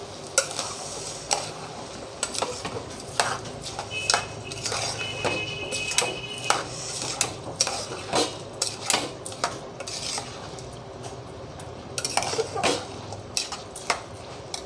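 Khichdi ingredients of dry moong dal being stirred and mixed in a pot for Kashmiri-style khichdi, with repeated spoon scrapes and clinks against the metal over a soft sizzle, close and steady throughout.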